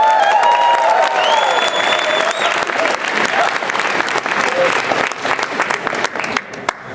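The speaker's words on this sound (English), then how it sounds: "Let's hear it for BB, everybody" A convention panel audience at MAGFest bursts into loud, sustained applause with scattered whoops, the clapping thinning toward the end.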